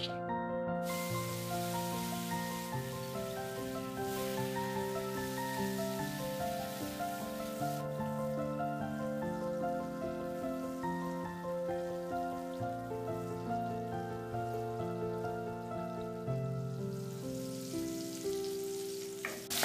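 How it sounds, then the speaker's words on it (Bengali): Chopped tomato sizzles steadily in hot oil with turmeric, a dense continuous crackle and hiss like light rain, close and even throughout, with occasional stirring scrapes and no talking. "টমেটোটা কিছুক্ষণ নাড়াচাড়া করে নিয়েছি।"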